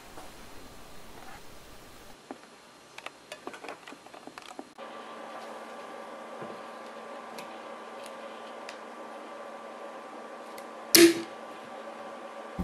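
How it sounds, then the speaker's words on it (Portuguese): A pressurized bottle of homemade fermented grape kefir soda being opened, with soft ticking and patter before a brief, sharp hiss of escaping carbon dioxide, heard close and alone with no talking. "vou deixar só o som de abrir a garrafa para vocês ouvirem a pressão"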